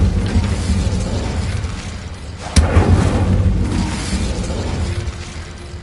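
An Incendio fire spell is cast in Hogwarts Legacy: a sudden loud burst with a sharp crack, followed by a roaring, rumbling whoosh of flame that swells and slowly fades under steady game ambience.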